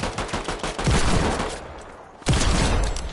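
Sniper rifle shots ring out in a video game: two heavy, booming reports about a second and a half apart, each trailing into a loud sustained roar.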